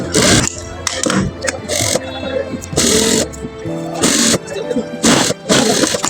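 A sewing machine stitches cushion cloth with a half-inch seam, running in loud mechanical bursts separated by short pauses as the fabric is repositioned.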